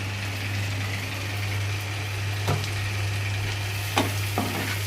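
Ground mustard and poppy seed paste frying in a pan for bhola fish curry, a steady sizzle over a low constant hum, with a few sharp scraping stirs near the end.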